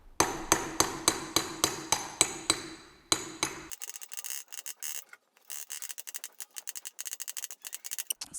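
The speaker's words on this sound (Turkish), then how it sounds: "Bakın metale vurma sesi geliyor direkt" Repeated hammer blows on a metal engine part, about a dozen evenly spaced ringing strikes, then a burst of quicker, sharper, lighter taps and clatter, close up with no talking.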